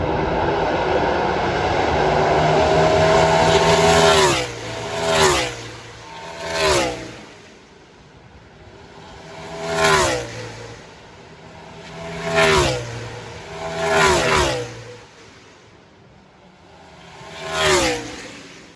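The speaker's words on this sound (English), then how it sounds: "This is where the cars are going into the carousel." Race cars roar through the carousel turn at Road America, with about eight separate loud pass-bys: each engine swells close, then drops in pitch as it sweeps away. A strong engine drone opens the sequence, and no one speaks.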